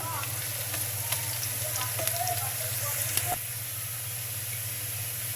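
Sliced onions fry in a pan for coconut prawn curry, giving a continuous close sizzle and hiss with a few faint clicks from the pan and no talk.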